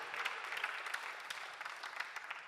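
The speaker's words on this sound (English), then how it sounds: "You can clap for that." A church congregation breaks into applause during a sermon, a soft, distant wash of many hands clapping steadily.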